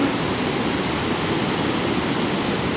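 A waterfall in Sukabumi roars as a loud, dense, continuous rush of falling water, close and unbroken.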